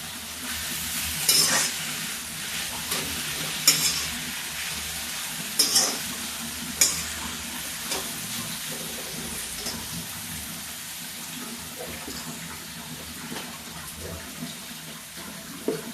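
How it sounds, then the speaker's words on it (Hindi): Spinach frying in a pan for a panchmel dal palak dish, a steady hiss of sizzling under periodic spatula scrapes and taps, moderately close and continuous. "साफ करके इस पालक को हम ऐसे इसे फ्राई कर लेते हैं"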